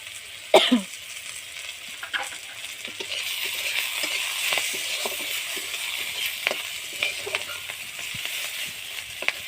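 Spice paste hits hot oil left from frying fish, hissing and sizzling steadily close by after a sharp cough at the start, with occasional stirring clinks and scrapes.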